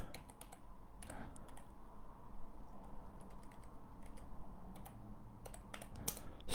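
Computer keyboard keys tapped in an irregular run of close clicks, with short bursts and pauses over a low background hum, no voices.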